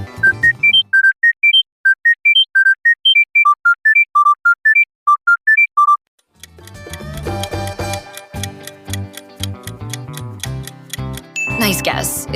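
A Panasonic mobile phone ringtone beeps out a simple, clean melody of separate electronic tones for several seconds, followed by a louder, cluttered musical passage with ticking percussion.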